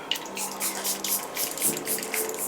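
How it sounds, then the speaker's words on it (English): A short hissing spray of Charlotte Tilbury setting spray misted onto a face, soft and close, with faint background hum and no talking. "Spraying first with Charlotte Tilbury."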